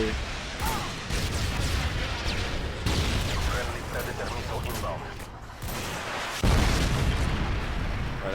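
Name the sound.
missile explosion in video game Call of Duty MW2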